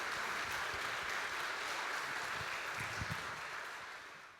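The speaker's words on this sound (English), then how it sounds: "Let's have another round of applause" Audience applause at an evening speaking event, a dense roar of many clapping hands that holds steady and then gradually fades toward the end, with no speech over it.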